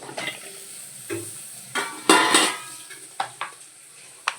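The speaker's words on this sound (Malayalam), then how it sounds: "നമുക്ക് എനിക്ക് വെണ്ടയ്ക്ക ഇട്ട് കൊടുക്കാം" Okra goes into a hot clay pan with coconut oil for sambar, giving bursts of sizzling. Short crackling surges mix with clinks and scrapes of utensils against the pan, one surge louder than the rest.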